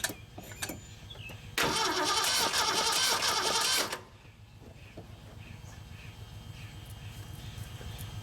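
After a few faint clicks, a 1974 Mercury Comet GT engine, unstarted for 14 years, cranks loudly for about two seconds on a cold start, then falls to a low, rough idle that rumbles on.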